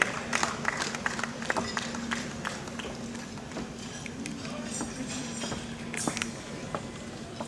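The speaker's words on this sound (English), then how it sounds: "A big round of applause to Dr. THIER." Applause at a Rotary award ceremony for a doctor, a crowd clapping in a loose patter of many hands with a steady hum beneath, a few louder claps standing out.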